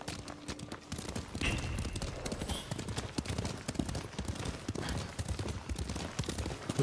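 Horse hooves gallop in a steady, rapid clip-clop rhythm through a video game ride toward Toyotama, close and continuous under faint background sound, with no talking.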